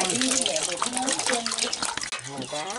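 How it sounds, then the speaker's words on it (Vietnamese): Water runs steadily while a grandmother washes a catfish for sour soup, with a continuous splashing wash under people talking close by throughout. "bà nội mình đang rửa cá"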